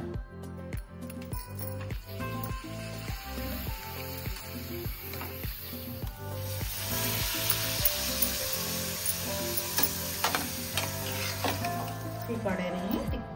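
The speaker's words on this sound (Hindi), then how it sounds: "तो प्रथमे हमकु पांपड़ को छाणीबा पई पड़िबो तो प्रथमे हम पांपड़ को छाणी देबा" Papad fries in hot oil with a continuous close sizzle that grows louder and more hissing partway through, over a faint rhythmic tapping in the background.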